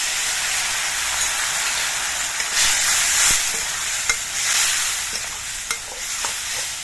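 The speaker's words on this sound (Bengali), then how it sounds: "এবার মশলা দিয়ে পেঁয়াজ দিয়ে আমি কিছুক্ষণ কষিয়ে নেব" Onion and ground spices (coriander, cumin, dried chilli powder) with a little water frying in a pan, a loud, steady hiss with scattered spatula scrapes and small pops, no voices.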